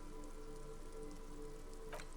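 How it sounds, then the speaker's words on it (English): Steady rain falling over a city in Disco Elysium, a soft, continuous hiss of drops at low level with no talking, and one brief brighter splash near the end. "Rain falls down on the world."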